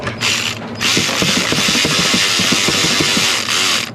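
A hand ratchet clicks rapidly and steadily while tightening a fuel injector bolt on a Ford 6.0 diesel engine in a 2003 F450, close and loud over a continuous hiss of background noise.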